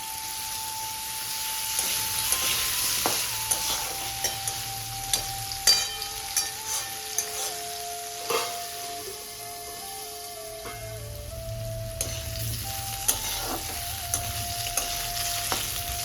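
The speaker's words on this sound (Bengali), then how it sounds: "কিছুক্ষণ ভেজে ছেড়ে দিলাম কেটে রাখা আলুগুলোকে একটু নুন দিয়ে গোল্ডেন ব্রাউন করে ভেজে নেব।" Potatoes frying in oil with whole garam masala in a wok, a steady close sizzle with stirring scrapes and clinks throughout, no talk.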